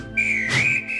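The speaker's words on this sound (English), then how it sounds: "The guard's whistle blew" A single sharp, high railway guard's whistle blast lasting about a second, steady and loud with a brief wavering rise in the middle.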